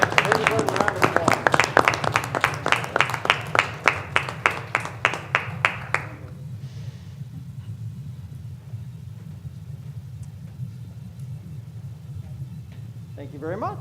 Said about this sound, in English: Please put a round of applause.